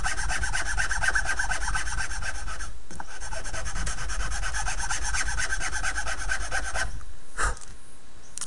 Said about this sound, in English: I'm going to use my fingernail there to guide the file, and we start filing it down.